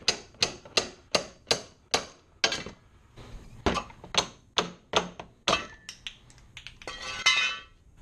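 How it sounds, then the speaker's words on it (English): Bolts under a radiator housing are tapped out with a hammer, a run of sharp metallic strikes at a steady pace, then irregular clinks and a brief scraping rattle, close and clear. "Then we'll tap these out with a hammer."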